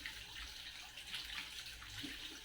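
Faint tap water running steadily, rinsing freshly harvested produce at a sink, a soft continuous splash with no talking.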